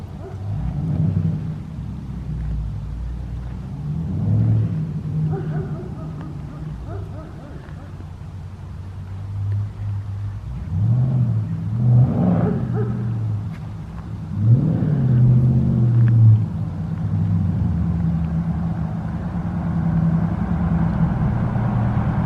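A 2019 Dodge Charger Scat Pack with its catalytic converters removed, driving: a deep, steady exhaust rumble that swells into a few louder revving surges, with people talking over it.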